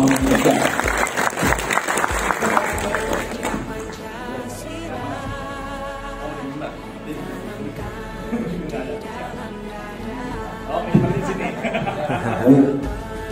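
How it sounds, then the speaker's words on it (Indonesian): Audience at an Indonesian gathering with police officers present claps loudly at first, then the applause thins into murmuring chatter and scattered voices, with a brief swell of clapping near the end. "kasih tepuk tangan dulu Pak"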